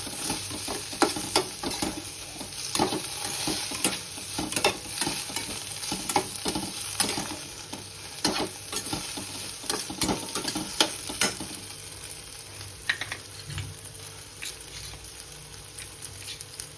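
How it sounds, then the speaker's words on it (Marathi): Besan-coated okra with coriander powder and ginger stirred in a hot pan, with busy, continuous sizzling and frequent sharp spoon scrapes and clicks close by, easing off toward the end, no voices. "आता हे सगळं मिक्स करते"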